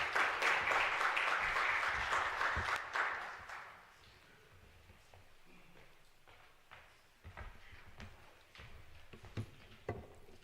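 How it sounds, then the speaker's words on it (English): A conference audience at an arts school event applauds loudly for about three seconds, then the clapping fades into a quiet room with scattered thumps and shuffling. "The audience has actually made it easier because they gave you that round of applause"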